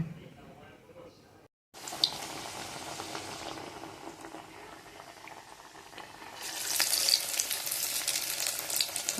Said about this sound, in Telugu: కళాయిలు వేసుకొని గోల్డ్ కలర్ వచ్చేదాకా వేయించుకోవాలండి